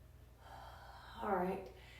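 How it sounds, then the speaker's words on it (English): A single slow, audible breath during a pilates stretch, a soft inhale building to a fuller exhale, close and quiet over low room hum. "Let's take a few good breaths here."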